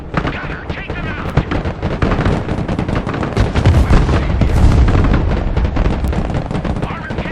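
Loud, dense gunfire rages without pause in the military strategy game Broken Arrow, with rapid machine-gun bursts and heavier explosive blasts layered through a continuous battle din.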